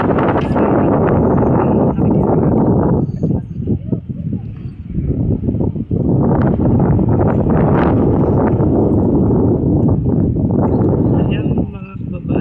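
Wind blowing hard across a microphone outdoors at an open-air market in Jeddah, a constant loud rumbling buffet that barely lets up, with a person speaking intermittently underneath.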